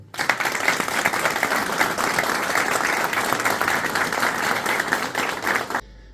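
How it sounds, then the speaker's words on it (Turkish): An audience at a book launch event breaks into steady, dense applause that stays even and full for about six seconds, then cuts off abruptly. "içten bir alkışı hak ediyorum"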